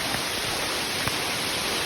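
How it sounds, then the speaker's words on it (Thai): Steady, dense hiss of rain falling on a plantation of 36-year-old Siamese rosewood trees, even and continuous throughout, with no voices and one faint tap near the middle. "ฝนตก"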